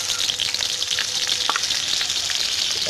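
Garlic and chopped shallots fry in a pan with a continuous bright, hissing sizzle, close and fairly loud, broken by a few sharper pops and spatters.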